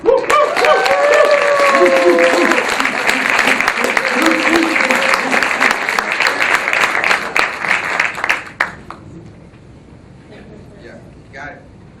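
A seminar audience in Dallas applauds as a national vice president is welcomed to the front of the stage. Loud, sustained clapping with some cheering and voices over it at first, then it thins and fades to near quiet after about eight seconds.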